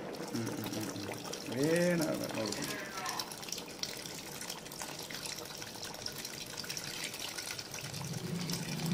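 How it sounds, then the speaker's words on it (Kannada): Water poured into a pot of tamarind sambar, a steady splashing pour at close range that continues under someone speaking. "ನೋಡಿ ಇಷ್ಟು ನೀರು ಹಾಕಿದ್ದೀನಿ"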